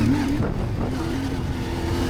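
CFMoto CF450MT quad engine settling as the throttle is released, a steady close mechanical drone with a low tone that dips slightly early on and then holds evenly.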